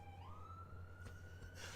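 A fire support vehicle's siren in the Cities Skylines II video game rises and holds a single steady tone, faint and distant over a low constant hum.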